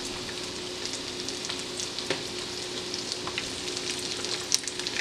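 Pickerel (walleye) fillets fry in a pan over moderate heat, giving a steady, close crackling sizzle throughout with scattered small pops and no talking.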